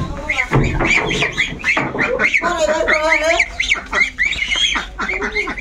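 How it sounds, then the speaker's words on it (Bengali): Young goslings give loud, close, rapid overlapping peeping and honking calls in quick succession, with a voice briefly mixed in. "রাজহাঁসের বাচ্চা হলো।"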